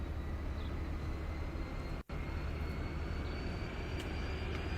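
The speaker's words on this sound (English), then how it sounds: "It almost sounds like a jet plane powering up." A steady, loud mechanical roar of a train engine powering up in Transport Fever 2, with a broad rumbling low end, holding constant apart from one brief dropout near the middle.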